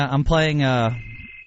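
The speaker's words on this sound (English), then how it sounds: "Whose cell phone is that? Someone's going off." A cell phone rings in a radio studio, a short, bright electronic tone that holds and then fades to a thin, high trailing note.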